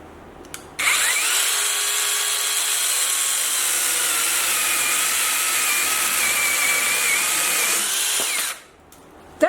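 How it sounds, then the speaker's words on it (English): A power saw cuts steadily through a piece of wood a little over 3 inches in diameter, a loud continuous whine held for about eight seconds before stopping abruptly. "So let's find out how well our saw works on this."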